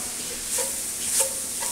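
Squirrel jambalaya, made with three squirrels boiled overnight in a crock pot, is stirred while it heats in a pot, giving soft scraping strokes over a faint sizzle, close and with no talk.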